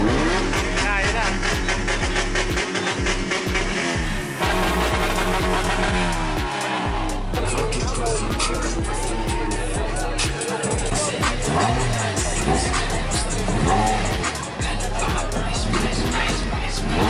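Several car engines rev loudly at a large car meet in Mindanao, throaty bursts rising and falling continuously over a crowded, noisy background with voices talking throughout.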